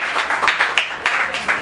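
Audience at a live stand-up comedy show clapping briefly, a short burst of scattered applause from a room crowd lasting under two seconds, with no talking over it.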